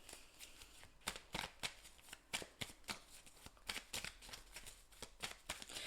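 A Belline oracle card deck is shuffled close up in quick, crisp riffling bursts with a soft, irregular rhythm and no voice.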